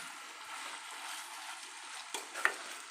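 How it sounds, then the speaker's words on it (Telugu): A bitter gourd curry is stirred in a pan after a ground green chilli and onion paste goes in, making a soft, steady sizzle with a couple of sharper spoon scrapes near the end, close and fairly quiet. "కలుపుకోవాలి మంచిగా కలిసేటట్టుగా."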